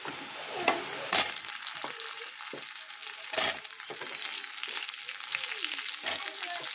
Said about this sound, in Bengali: আলুটা ভাজা ভাজা হলে তারপরে মশলাটা দেবো।